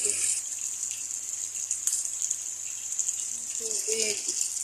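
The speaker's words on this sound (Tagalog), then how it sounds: "Lalagyan naman natin siya ng tubig." Hot water poured into a cooking pot for a tamarind fish dish, giving a continuous close gushing, splashing stream throughout, with a brief low voice near the end.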